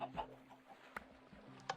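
Chickens on a video game chicken farm cluck in short, sharp bursts a few times, fairly quiet, with a faint steady hum underneath.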